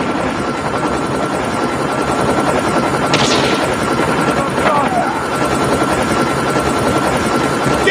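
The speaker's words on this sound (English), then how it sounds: "Friendly stealth chopper inbound." A stealth chopper in the Call of Duty Hardpoint mode on the Rust map, its steady loud rotor drone running throughout with gunfire bursts in the mix and voices over it.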